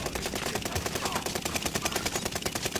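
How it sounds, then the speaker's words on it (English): Rapid automatic gunfire in a video game, dense bursts of shots crackling continuously and fairly loud throughout with no clear gaps. "There's people shooting at us"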